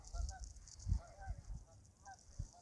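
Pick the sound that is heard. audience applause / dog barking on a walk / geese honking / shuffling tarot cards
geese honking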